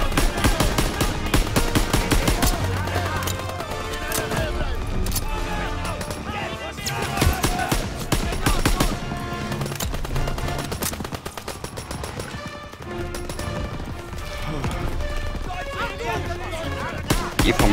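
Dense gunfire and combat effects from the World War II shooter Call of Duty WW2 on PC, a loud continuous mix of rapid shots and bursts with talk mixed in throughout.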